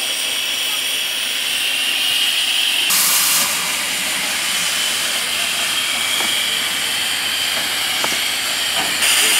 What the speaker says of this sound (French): Notre locomotive est donc prête à rouler.